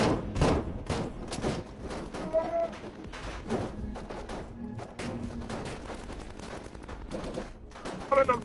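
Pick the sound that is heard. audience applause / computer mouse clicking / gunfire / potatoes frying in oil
gunfire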